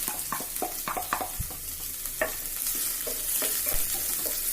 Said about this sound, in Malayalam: ഓയിൽ ഒന്ന് ചൂടായി വന്ന അതിലേക്ക് അരിഞ്ഞു വെച്ച വെളുത്തുള്ളി ഇഞ്ചി ചേർത്ത് കൊടുക്കണം